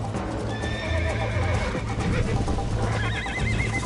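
A horse in the Western video game Red Dead Redemption gallops with rapid, even clip-clop hoofbeats and lets out loud neighs and whinnies near the start and again near the end, with game music and effects layered underneath.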